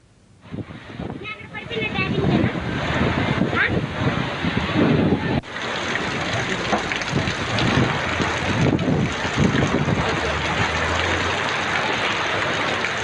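Strong gusty wind roars and buffets the microphone, with heavy rushing rain noise building to a steady, loud wash during a storm in Vijayawada.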